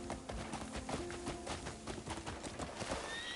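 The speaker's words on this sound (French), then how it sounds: "Salut le cheval, désolé." In the video game Crimson Desert, horse hooves clip-clop in a steady rapid rhythm at low level with a hint of a whinny, under a busy game soundscape.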